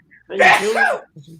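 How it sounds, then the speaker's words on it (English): One loud close sneeze from an adult, a sharp burst with a rising breathy tail, followed by a brief soft vocal sound. "I'm about to sneeze"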